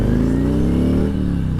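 A Harley bagger engine cruises on a highway in 6th gear at about 2,800 RPM and 70 mph, a steady, smooth mid-pitched rumble, close and continuous with no other sounds.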